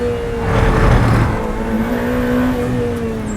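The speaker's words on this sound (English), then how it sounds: "The 488 Challenge car is a beast." Ferrari 488 Challenge race car engine revving loudly and steadily, a strong throaty roar with rising pitch through the first second, then holding a sustained high drone close by with no talking.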